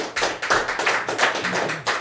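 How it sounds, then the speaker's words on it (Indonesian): Clapping for a guest at an inspirational talk event, a short burst of separate hand claps in uneven rhythm, fairly close and moderately loud, with no speech over it. "tepuk tangan dulu untuk Mas Aji nih."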